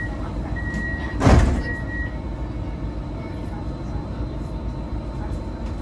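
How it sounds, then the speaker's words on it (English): Doors on a Parramatta Light Rail L4 tram slide shut with a short whooshing thump, accompanied by a steady warning tone, over the constant hum of the tram interior. "Stand clear. Doors closing."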